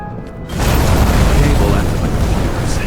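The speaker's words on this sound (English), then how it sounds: "That's what caused the explosion." A loud, deep boom erupts after a brief quiet moment and gives way to a sustained roaring rumble that fills the rest of the clip, from an explosion in the video game Nobody Wants to Die.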